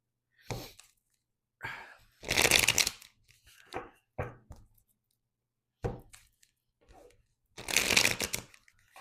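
Tarot cards are shuffled by hand in repeated bursts of crisp riffling and flapping, close and fairly quiet, separated by short silent pauses.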